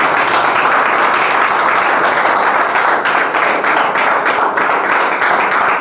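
Loud, close applause from a room of students at IV Technical Classes welcomes Saurabh Sir, rapid individual claps packed into a vigorous continuous roar with a few sharp distinct slaps standing out.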